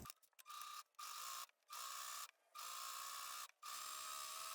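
Sewing machine backstitching a seam on lounge pants, a high buzzing whir in several short bursts broken by brief stops, fairly faint and close, with no talking.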